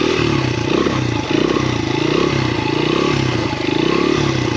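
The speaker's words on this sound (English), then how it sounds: "We got the XR100 and we are gonna try and do some wheelies today." Honda XR100 dirt bike engine running continuously with a rough, pulsing note, loud and close throughout, a slight dip midway, no voices.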